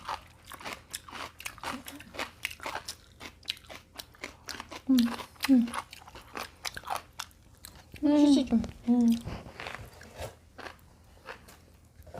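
Sweet potato being chewed close up: soft, wet bites and crunchy mastication come in uneven bursts, with brief murmured voices in between.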